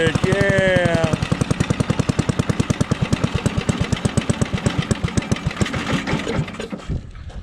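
A WWII aircraft generator welding machine's engine idles loudly up close with a fast, even chugging pulse, a brief whine at the start and a sputtering stop near the end.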